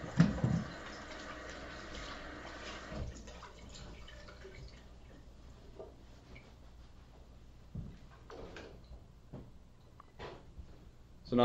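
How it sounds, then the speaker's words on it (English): Washing up at a kitchen sink while making fresh pasta and aglio e olio, with dripping and running tap water trickling steadily at close range and a few louder splashes, no voices. "let's wash up a little bit"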